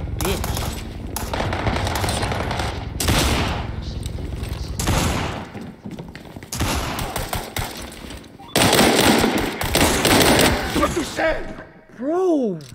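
Rapid bursts of gunfire from the video game WW3 Deathmatch come in loud, dense volleys with short gaps between them, while players shout and talk over the shooting.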